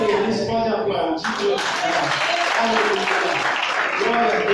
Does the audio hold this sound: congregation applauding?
yes